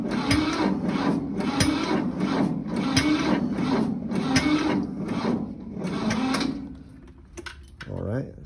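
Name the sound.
equipment engine cranking on a NOCO Boost battery pack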